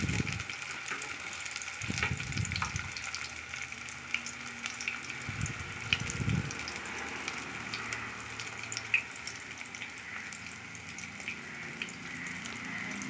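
Fish kebab patties frying in hot oil give a steady, low sizzle, with a few soft thuds and clatters in the first seconds and no talking.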